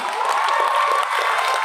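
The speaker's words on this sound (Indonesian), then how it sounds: "AKBP Pandan, tepuk tangan" An audience at a Christmas gathering in Tapanuli Tengah applauds and cheers steadily, a dense, even wash of clapping with scattered shouts that holds at constant volume.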